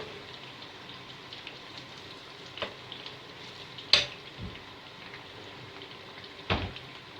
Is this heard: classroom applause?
no